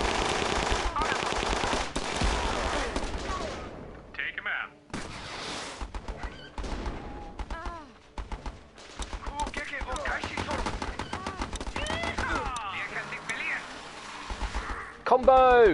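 A gun turret in the Battle Islands Commanders video game fires bursts of rapid automatic gunfire, dense rattling volleys with short pauses, while someone talks over the shooting throughout.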